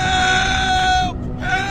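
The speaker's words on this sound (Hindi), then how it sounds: "तभी उस हॉस्पिटल के अंदर से चीखने चिल्लाने की आवाज आने लगती है।" A sustained, shrill screaming cry from inside an old hospital, loud and close, holding steady before briefly breaking off and then resuming over a rough, noisy background.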